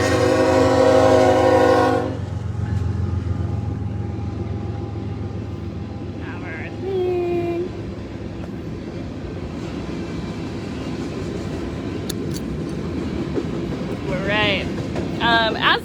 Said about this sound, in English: I might just not try to talk over the train for a second